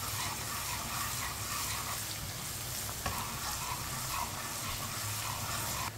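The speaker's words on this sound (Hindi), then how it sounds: "एक चम्मच कुटा हुआ लहसुन, लहसुन को भी 1-2 मिनट के लिए पका लेंगे।" A spoonful of crushed garlic fries in a pan for sarson ka saag, giving a continuous close crackling sizzle with faint stirring scrapes and no voices throughout.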